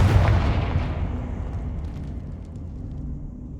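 Confringo fire spell exploding in Hogwarts Legacy, one loud booming blast at the start that rumbles and fades away over a few seconds.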